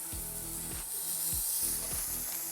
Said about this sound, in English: you hear that sizzle? I love that sizzle noise.